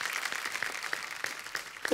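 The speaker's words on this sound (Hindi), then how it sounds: "एक बार वागले की दुनिया की पूरी स्टार कास्ट के लिए जोरदार तालियां" A television studio audience claps for a serial's star cast on a comedy show. The applause is steady but fairly faint and sounds somewhat distant, with scattered sharper claps standing out.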